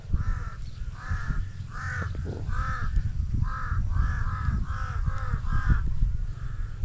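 Several crows caw repeatedly in an irregular series of harsh calls, fairly close, around mulberry trees in a papaya farm, over a steady low rumble of background noise.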